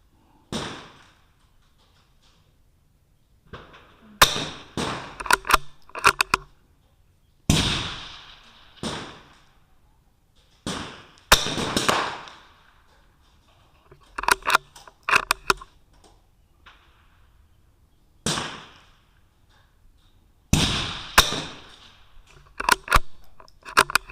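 .22LR rimfire rifle shots from a Bergara BMR-X at a club shooting match, sharp dry cracks fired in quick bursts of several with brief pauses between strings, fairly close, with no talking.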